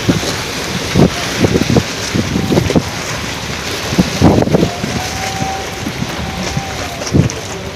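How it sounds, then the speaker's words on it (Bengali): Strong storm wind buffets a phone microphone at the Chandpur boat and fish ghat, roaring steadily with repeated loud gusty thumps and a faint sustained tone partway through. "মোবাইলটা কাঁপছে মানে বাতাসের তীব্রতা এতই বেশি"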